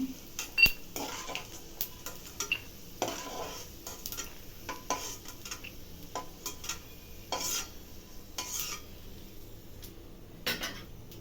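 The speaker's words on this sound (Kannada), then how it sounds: "ಕಡಲೆ ಬೀಜ ಎಣ್ಣೆಲಿ ಕರೆದು ಎತ್ಕೊತಾ ಇದ್ದೀನಿ" Peanuts frying in oil in a pan while being stirred, soft scraping and clinks of a spoon against the pan over a low, quiet sizzle, no talking.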